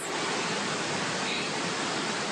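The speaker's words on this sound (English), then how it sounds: "Drains were no match for the force of the downpour." Heavy rain pours down in a city business district, flooding streets and drains with a dense, steady, loud roaring hiss that never lets up.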